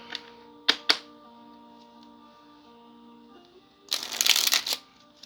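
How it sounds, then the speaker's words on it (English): A tarot card deck being riffle shuffled: a couple of sharp snaps of cards, a quiet pause, then a close, dense fluttering burst as the cards interleave, with no talking. "let me try a riffle shuffle a little bit"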